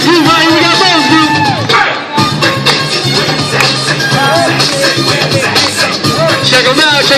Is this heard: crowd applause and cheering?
yes